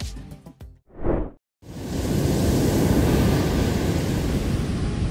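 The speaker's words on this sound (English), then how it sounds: "now they know how strong the waves are." Strong ocean waves crash loudly after a brief silent gap, settling into a continuous roaring surf wash with wind, preceded by some short scattered noises.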